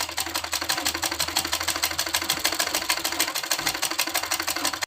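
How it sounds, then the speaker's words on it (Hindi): A sewing machine stitching around a kurti neck runs with a fast, even mechanical chatter that stays close and loud without pause, with no voices. "हम इसको साइड साइड से इस तरह से फोल्ड करके सिलाई लगा लेते हैं"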